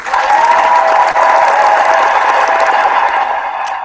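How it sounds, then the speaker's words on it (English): A round of applause with some crowd cheering, loud and dense throughout, tapering slightly near the end, with no talking over it. "So let's give ourselves a round of applause."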